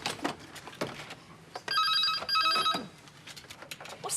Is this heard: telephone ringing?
yes